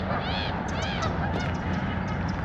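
A flock of geese calls outdoors at a country park, repeated honking cries overlapping from several birds amid constant loud wind and ambient noise.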